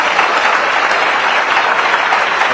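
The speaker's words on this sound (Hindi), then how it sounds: "एक बार जोरदार तालियों के साथ स्वागत।" Loud, sustained applause from a large audience welcoming a state chief minister at a youth gathering, a thick, even roar of clapping with no talk over it.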